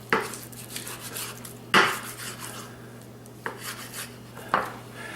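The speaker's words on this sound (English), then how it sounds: "I'm just going to slice this in some big chunks" A knife slicing pork shoulder into big chunks on a board, heard as a few separate close cutting strokes with clinks against the surface and soft scraping in between, against a steady low hum and with no talking.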